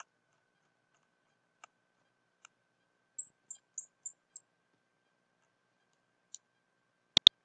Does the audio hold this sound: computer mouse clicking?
yes